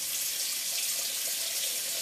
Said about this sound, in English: I would like to add a little bit more water